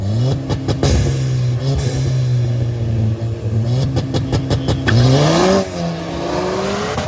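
A small Ford Fiesta engine revs loudly nearby at a track day, rising and falling in pitch with repeated throttle blips and shifts.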